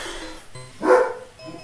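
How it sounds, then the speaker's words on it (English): A pet dog barks in the background of a home, giving one short, fairly loud bark that stands alone with no talk over it. "In the background, my doggy just has to bark."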